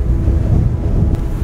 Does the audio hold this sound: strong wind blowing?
yes